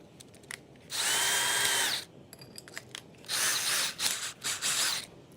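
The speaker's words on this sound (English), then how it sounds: "If you all have not seen the drill mixing before" A power drill whirs in two bursts, one steady second-long run and then a longer, stuttering stretch, as it stirs molten glass in a hot glassblowing studio.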